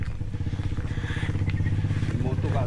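Motorcycle engine droning steadily outside, a continuous low rumble at moderate distance beneath people talking nearby.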